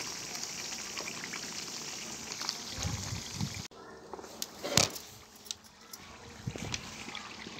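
Ghee bubbles and spatters in a pan on the stove over low heat, a soft continuous simmer with scattered sharp pops and crackles, quiet and close.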